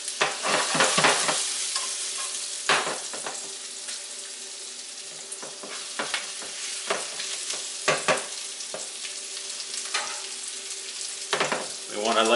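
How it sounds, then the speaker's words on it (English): Onions sizzle and fry in a pan while being stirred, a steady hiss broken by scraping clicks and knocks of the utensil against the pan, close up. "Throw in our onions."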